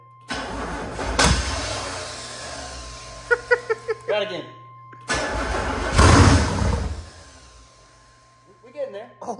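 An abandoned Chevrolet Suburban with a 454 big block engine cranks loudly in two attempts, catching briefly with rough roaring bursts between the tries, while people talk nearby.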